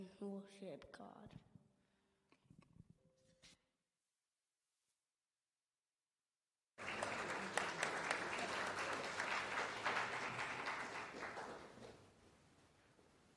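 A congregation claps at a church's First Sunday of Advent service: after some brief speech and a pause, steady broad applause rises and fills the room for several seconds, then fades.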